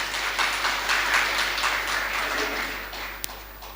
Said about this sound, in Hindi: ताली तो बजाओ जरा।